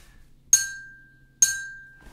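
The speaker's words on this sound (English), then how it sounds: "I'm just going to tap the beat on the glass with a pen" A pen taps twice on a drinking glass, about a second apart, each bright clink ringing on with a sustained tone before fading; no voices.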